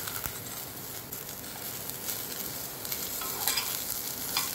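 Chopped cabbage stir-frying in a pan with cashews for a festive offering meal, giving a steady soft sizzle with light stirring scrapes, fairly quiet and continuous with no talking.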